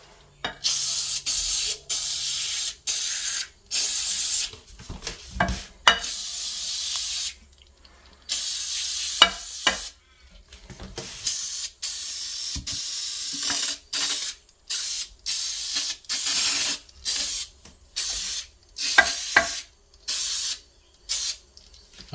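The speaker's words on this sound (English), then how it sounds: "I have now put the barbecue cleaner all around the bowl" Repeated hissing bursts of barbecue cleaner sprayed around a toilet bowl, short trigger pulls in an irregular rhythm with brief pauses between, close and fairly loud with no voices.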